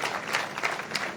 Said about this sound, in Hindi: एक बार उनके सम्मान में ताली बजाएंगे।